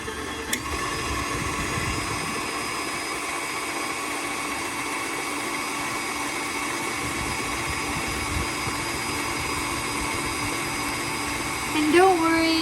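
Electric mixer beating sponge cake batter with egg in a home kitchen, a steady droning motor whir running unbroken and close throughout, with a brief clatter near the end.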